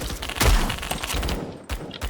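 Gunfire from a video game gun that can one-shot to the torso, with a loud burst of several sharp shots up close, followed by a couple more spaced reports toward the end.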